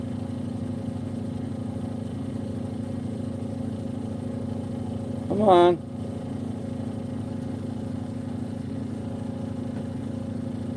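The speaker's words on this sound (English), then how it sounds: "I can shut down the generator" A generator engine runs at a steady, even drone throughout, loud and close. Someone speaks briefly over it.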